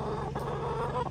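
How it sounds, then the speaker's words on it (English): Chickens clucking softly at a distance, a low steady murmur of fowl over quiet background hum. "surrounded by the sounds of chickens"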